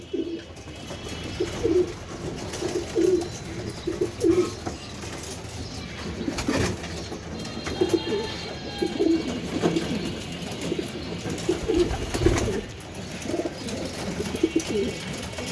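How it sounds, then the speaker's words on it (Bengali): Racing pigeons in a loft coo repeatedly in low, rhythmic calls, several birds overlapping at close range, with occasional rustles and wing flaps and no talk. "প্রত্যেকটা কবুতর রেস করা কবুতর"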